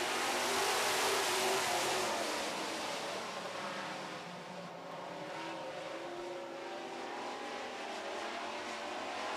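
Super Trucks roar away from a green-flag race start at a track in Minnesota, six trucks for an eight-lap heat, engines loud and sustained with revving that swells early and then holds steady as the field passes.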